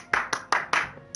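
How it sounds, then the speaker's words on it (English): Four crisp hand claps in a steady, fairly quick rhythm, close and moderately loud with nothing else around them. "Very good. Deserves you a clap."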